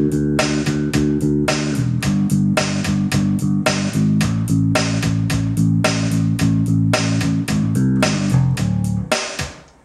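An electric bass pumps steady eighth-note chord roots over a simple rock drum groove, loud and continuous, with repeated low notes changing pitch every bar or so, and the playing stops near the end.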